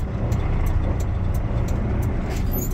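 A truck's diesel engine rumbles low and loud during a gear change, a steady close drone with no voices.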